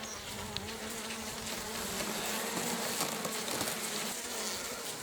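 Bees buzz inside a hive in late winter, a dense, continuous droning hum, loud and close, with faint scratchy movement layered over the steady swarm tone.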